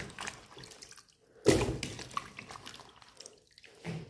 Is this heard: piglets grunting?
no